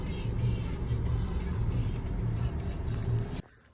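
A car engine idles and hums steadily while the car is being parked, with a low rumble that cuts off abruptly at the end.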